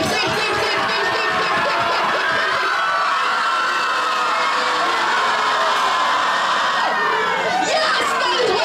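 A large concert crowd screams and cheers loudly without a break. Shrill shouts and whoops rise over a dense wall of voices.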